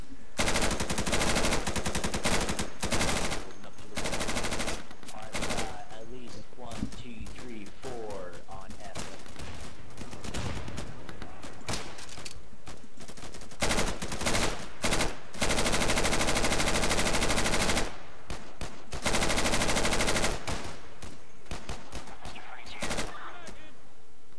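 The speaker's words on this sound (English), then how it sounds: "It sounds like they got a heavy gunner down there." Heavy machine gun fire rattles in the shooter game Insurgency in long, loud, rapid bursts broken by short gaps, with voices talking at times.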